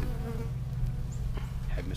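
Honey bees from an agitated, queenless hive during a beekeeping swarm check in Texas, giving off a dense, steady buzzing drone that fills the whole stretch at close range with no pause.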